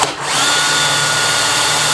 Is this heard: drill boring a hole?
yes